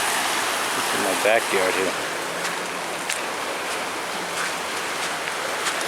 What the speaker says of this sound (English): It's still raining. It's not raining as hard.